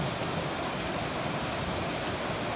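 A waterfall along the Amicalola approach trail roars as a loud, steady, unbroken rush of falling water that fills the scene without pause.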